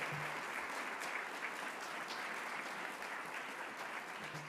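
Audience at a service recognition awards ceremony applauding staff for 40-plus years of service, an even, sustained wash of clapping from a large room, steady and moderately distant throughout.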